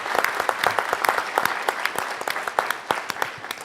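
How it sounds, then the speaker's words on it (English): Audience at a civic lecture series applauding, a dense run of sharp overlapping claps that stays steady and moderately loud for several seconds, with no voices over it. "give Elihu a round of applause"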